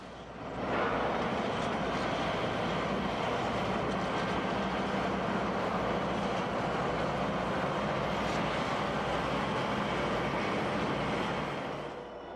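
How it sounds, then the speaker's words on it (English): A westbound freight train departs Minturn, Colorado, after a crew change, producing a loud, steady rumble of diesel engines and rolling cars that holds evenly for about twelve seconds before easing off slightly at the end. "This westbound is departing Minturn, Colorado after a crew change that will take them to Grand Junction."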